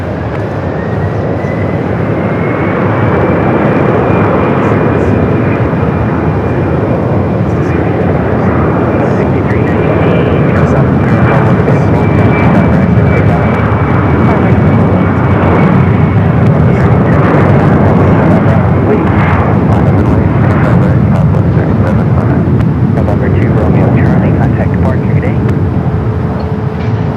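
A CRJ regional jet on its takeoff roll at Phoenix Sky Harbor Airport, a loud sustained engine roar with a rising then steady whine, heard close and continuous beneath a person talking.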